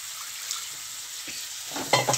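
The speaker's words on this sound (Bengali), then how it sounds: "দেখো কষানো কিন্তু প্রায় হয়ে গেছে, তেল কিন্তু দেখো ছাড়তে শুরু করে দিয়েছে" Spice paste fries and sizzles in hot oil in a pan with a steady close hiss, and a brief burst of stirring scrapes near the end.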